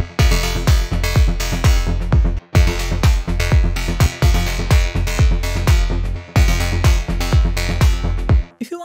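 Melodic techno synth bass stabs play along with a full track, loud and rhythmic, with punchy repeated hits over kicks and pads, a brief drop near two and a half seconds, and no talking.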